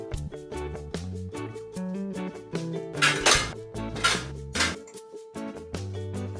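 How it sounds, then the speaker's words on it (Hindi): Dishes, pots and pans clatter and clink steadily as they are washed by hand, with repeated metallic knocks and scraping, close and fairly loud, with no talking. "हम यहाँ बर्तन धो रहे हैं बैठ के।"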